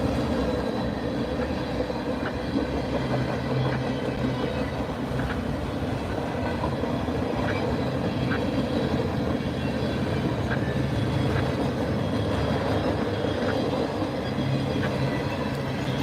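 A train rumbles past steadily and close in snowy weather, its wheels clattering rhythmically over rail joints in a continuous low roar.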